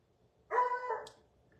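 A house dog gives a single sharp bark, close and fairly loud, followed by a brief faint yip in an otherwise quiet room.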